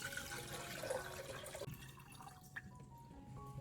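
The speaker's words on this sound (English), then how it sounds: "First, fill the kettle with water up to the maximum level." Water runs and splashes steadily into a kettle at close range, a faint trickling pour that thins out toward the end.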